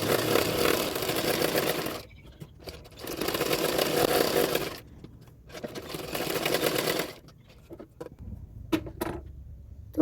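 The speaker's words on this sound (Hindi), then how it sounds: "अभी बेल्ट पार्ट भी सिलाई कर लूँगी।" A sewing machine stitches the belt parts of a double katori blouse in three loud, steady bursts, each running for a couple of seconds and separated by short pauses and light handling noises.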